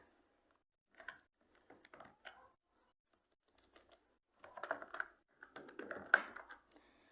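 Computer keyboard keys are tapped while data is entered into an MS Excel spreadsheet, in faint, sporadic bursts of clicks separated by quiet pauses, with no talking.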